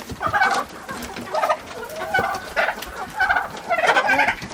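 Poultry calls from inside a chicken coop where an 11-year-old turkey has wandered in, a series of clucking and gobbling bursts repeating every second or so at close range.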